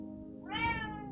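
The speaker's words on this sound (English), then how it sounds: "my cat says hello" A pet cat gives a single clear meow, a short rising-then-falling call lasting under a second, close and fairly quiet against a faint background hum.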